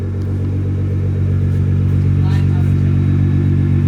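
A Nissan R35 GTR, freshly fitted with an E85 flex fuel setup, idles with a steady, loud low rumble, its smooth even drone holding throughout with a faint brief tick in the middle.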